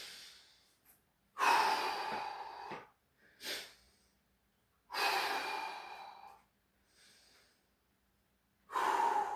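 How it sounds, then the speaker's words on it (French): Deep, heavy breaths after a workout of weighted rope skipping, push-ups and squats, heard as three long, close inhale-exhale cycles with quiet pauses between them. "On prend 3 bonnes respirations."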